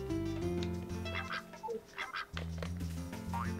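Duck quacking in Harvest Moon: A Wonderful Life, a few short quacks over steady, looping farm background music, fairly quiet.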